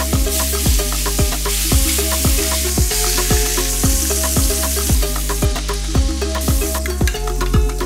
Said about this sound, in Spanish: he sellado las piezas de a poco para que el sellado sea efectivo